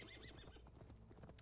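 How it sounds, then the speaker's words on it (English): Horses in Assassin's Creed Valhalla whinny and neigh up close, with clip-clopping hooves, in a short, faint burst. "random horses."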